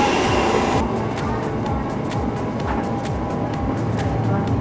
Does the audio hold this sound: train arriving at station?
yes